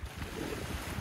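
Black Sea waves washing onto a Sochi beach on a mild January day, with a light sea breeze, a steady close wash of surf and wind rush throughout.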